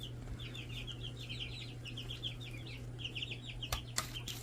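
Young chicks near a backyard chicken coop give a run of soft, rapid peeping calls over a steady low hum, faint and distant, with a couple of sharp knocks near the end.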